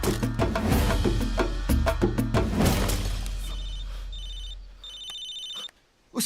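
A telephone rings with a bright electronic trill, repeating over a fading musical background, then briefly goes quiet.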